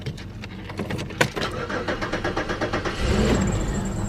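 A used car with about 50,000 miles cranks and starts up, and the engine settles into a steady running rumble that sits fairly close and loud.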